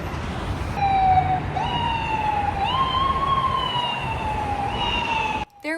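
A police siren wails through New York City streets, its rising and falling tone sweeping steadily over a constant rumble of urban traffic, fairly close and continuous until a sudden cut near the end.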